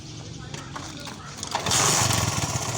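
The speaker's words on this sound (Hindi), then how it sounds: "ये मेरा मोटरसाइकिल इस टाइम स्टार्ट हो चुका है" A Honda CD 70 motorcycle engine, started without a key by disconnecting the ignition wires, cranks and catches, settling into a loud rumbling idle close by, with someone speaking over it.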